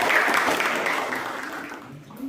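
Classroom applause for a student group about to present, a dense steady patter of many hands clapping close by for about two seconds, tapering slightly at the end.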